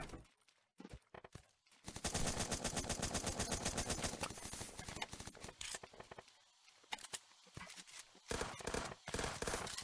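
AR rifle fire in the top-down battle royale game Zombs Royale, with fast bursts of automatic shots in clusters, separated by brief lulls and scattered clicks.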